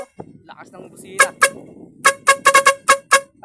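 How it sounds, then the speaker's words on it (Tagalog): Loud vehicle horn honking in a series of short, sharp blasts, several in quick succession, close by, with faint background noise between. "Yo, lakas ng busina."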